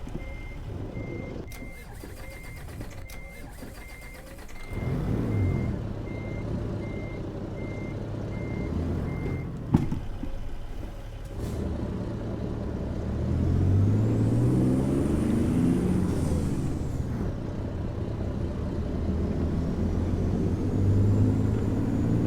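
Heavy truck in American Truck Simulator rumbling and manoeuvring on a rough road, engine drone rising and falling with a rhythmic reversing beep early on and a brief hiss like an air brake midway.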